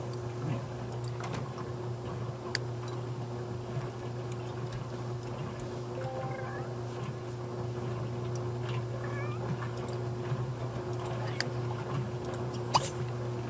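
Cats meowing faintly in The Sims 3, a few short high mewing calls around the middle over a steady low electronic hum and soft game ambience.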